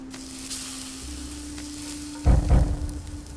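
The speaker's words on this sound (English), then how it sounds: "I think I'm gonna go ahead and cook this meat" Meat cooking over a fire in the survival game Subsistence: a low steady hum with a faint sizzle, then a louder burst of frying crackle near the end.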